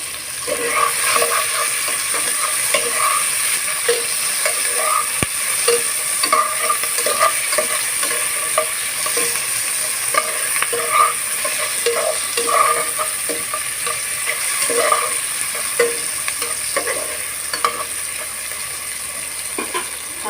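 Red capsicum lightly frying in a pan makes a steady hiss of sizzling oil, broken by regular scraping strokes of a spatula stirring the pieces, close and even.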